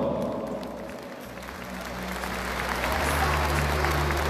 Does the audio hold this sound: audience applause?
yes